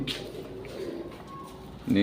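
Homing pigeons coo softly in a loft, low throaty calls heard close, with someone talking over and around them.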